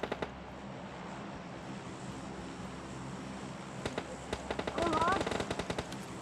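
Gunfire in the mobile game PUBG Mobile Lite: at first a quiet game background, then sharp single shots, then a rapid burst of automatic fire, with a faint engine drone underneath.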